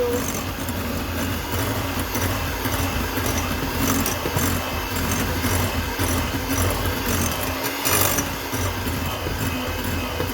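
Electric hand mixer beating orange cookie dough, a continuous whirring motor drone with grinding, scraping texture as the beaters churn the thick dough, steady and close with no talk.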